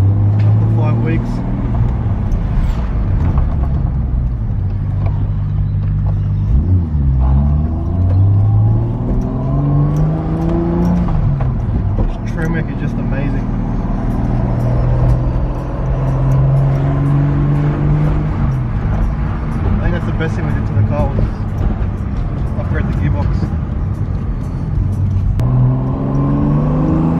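Engine of a Toyota Supra drives steadily at close range, its low hum rising and falling through gear changes and light acceleration, with a person talking over it much of the time.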